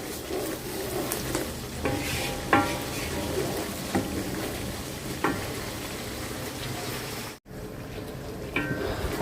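Spiced masala of ginger, garlic, nutmeg, mace, cumin, coriander and ground nut paste is stir-fried in a pot for chicken pulao, with steady sizzling and repeated scraping stirs throughout, close and moderately loud.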